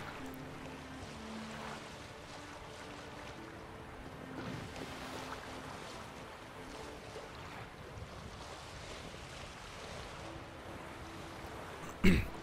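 Boat gliding across open water in The Witcher 3 game, a continuous wash of waves and wind rushing past, even and moderate throughout, ending with a sharp brief knock.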